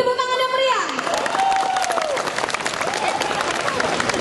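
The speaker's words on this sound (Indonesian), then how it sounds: "Beri tepuk tangan yang meriah" Audience applause and cheering at a book launch for a young preacher's book, a broad wash of clapping over crowd noise, with a voice talking over it near the start.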